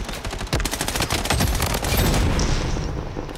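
Loud video-game explosion from a grenade in Blood Strike, a dense roaring blast with crackling, gunfire-like bursts that stays loud for several seconds.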